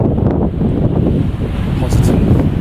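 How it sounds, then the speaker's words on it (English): Strong sea wind roaring steadily across the microphone on the coast of Menorca during a paddleboard trip, a dense, continuous low buffeting rumble with no letup. "still pretty windy"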